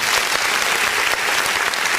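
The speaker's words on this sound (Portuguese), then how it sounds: "Aplaudo o nome do Senhor Jesus." A church congregation applauds steadily and loudly during a Sunday online service, dense continuous clapping from many hands with no break.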